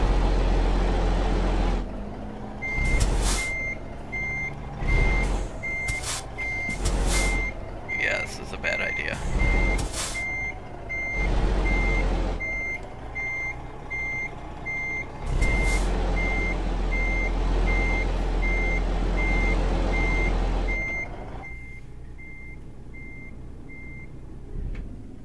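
A truck backs up a double trailer in American Truck Simulator on a Colorado route: a steady, loud reversing beep repeats evenly for about twenty seconds over engine hum and air-brake hisses, with someone talking at times.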